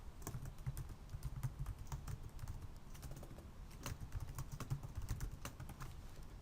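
Quick, light clicks from a computer keyboard as title text is typed for a Powtoon presentation, a close, irregular patter of keystrokes with no voices.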